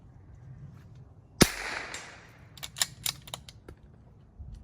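A single rimfire rifle shot during target practice cracks sharply, followed by a few fainter clicks and rattles, with no talking.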